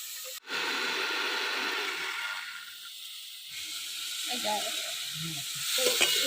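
Cauliflower frying gently in oil in a pan over low heat, a steady soft hiss that begins after a sharp clank and continues with light crackles and brief muffled voices.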